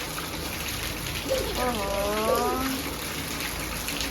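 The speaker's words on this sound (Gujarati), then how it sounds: "વરસાદ ચાલુ થઈ ગયો" Rain pours in a steady, even hiss, broken briefly by a single exclamation from a voice.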